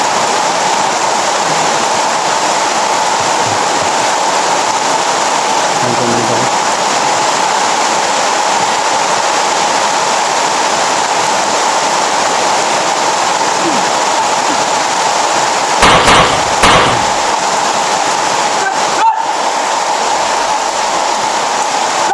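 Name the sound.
heavy rain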